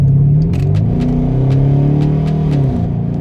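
Dodge Durango R/T with its 5.7 V8 and all-wheel drive revving, a loud, close, deep rumble whose pitch swells and falls steadily with a few clicks above it.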